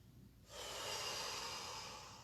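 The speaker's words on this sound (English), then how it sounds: "Take 2 breaths." A single slow, deep exhale during a yoga stretch, a soft airy rush that swells and then holds steady, close and quiet, with no talking.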